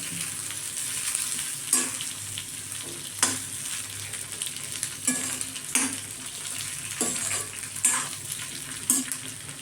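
Large tomato pieces sizzle and fry in a pan for a mushroom and capsicum gravy, with a steady hiss broken by several sharp scrapes of a spoon stirring every second or two, close and alone.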